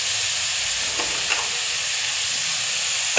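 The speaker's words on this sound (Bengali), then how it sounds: "সামান্য পরিমাণ লবণ দিয়ে সবজিগুলোকে ভেজে নেব" Vegetables with green chilies and a little salt fry in a pan, giving a dense, constant sizzling hiss with a couple of faint stirring scrapes, close and fairly loud.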